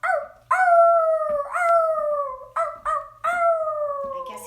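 A dog howling loudly, several long wavering howls in a row with short breaths between, close and clear with no talk.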